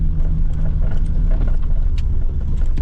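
An A-registration Vauxhall Nova 1.6i takes a quick spin round the block, its engine humming steadily with road rumble and a few light rattles from inside the car.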